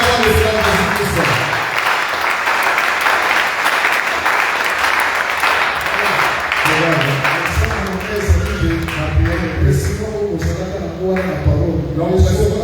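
A church congregation claps loudly and steadily together, continuous applause filling the room, with voices and a preacher speaking over the clapping.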